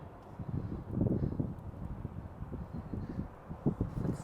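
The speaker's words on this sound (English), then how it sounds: "Oh, it's really windy and I forgot." Strong outdoor wind buffets the microphone in uneven low rumbling gusts, swelling and dropping over a few seconds with no other clear sounds.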